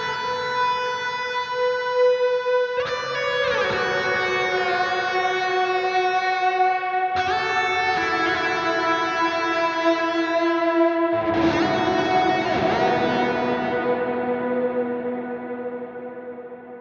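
An electric guitar played through an Archetype Petrucci X rack with chorus, delay and reverb rings out in long sustained chords and notes, swirling and echoing. Three new attacks follow one another, and the final tail fades away. No one speaks.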